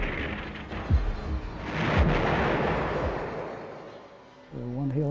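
Artillery fire in a Korean War film booms in heavy, rolling blasts over a continuous roar of distant barrage. A few sharp thuds stand out, and a voice speaks briefly at the end.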